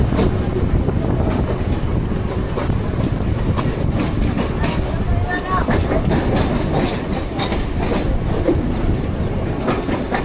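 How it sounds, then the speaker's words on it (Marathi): A Mumbai local train runs along the track, heard from on board as a loud, steady rumble with rhythmic wheel clatter and gusting wind buffeting the microphone throughout. "ट्रेनचा तर फ्रंट साईडला आपले ट्रेन आता रनिंग होत आहे."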